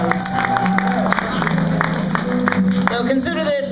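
At a live CD release concert in a brewery bar, the crowd gives a round of applause, a steady wash of clapping with sustained musical tones and some talk layered over it.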